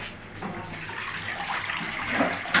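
A Haier automatic washing machine drains water, producing a steady gushing, splashing rush that builds slightly in loudness over a few seconds, with no talking.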